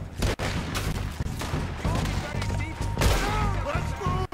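Gunfire in Red Dead Redemption 2: repeated loud shots crack through a busy battle, with sharp bursts standing out and someone talking between them.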